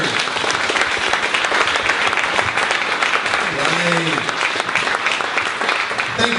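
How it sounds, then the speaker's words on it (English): Audience applause fills a live comedy and TV showcase event, a dense, steady wash of clapping that holds at full loudness throughout, with a voice speaking briefly over it. "Big round of applause for James Murray."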